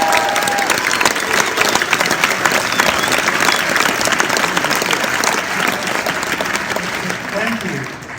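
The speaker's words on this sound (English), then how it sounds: "So some applause for this great guy." Sustained, dense applause from a large audience at an evening talk about mushrooms in Sebastopol, California, steady and loud across the full length, with a few voices mixed in near the end.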